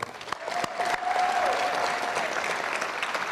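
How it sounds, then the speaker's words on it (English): An audience applauds coaches at an All-American Bowl induction ceremony, steady clapping that swells after a second and carries on at a moderate, slightly distant level. "let's give them a hand of applause"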